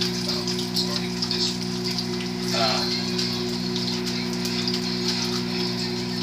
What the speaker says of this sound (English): You hear the chili going behind you.